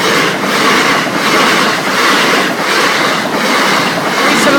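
A Class 375 passenger train passing a level crossing at Battle Road, East Sussex, with a loud, steady rush of wheels and rails, rhythmic clickety-clack pulses repeating about every second throughout.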